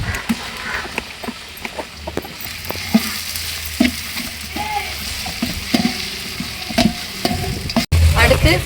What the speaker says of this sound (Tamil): அடுத்து இஞ்சி பூண்டு பேஸ்ட் போட்டுக்கலாம்.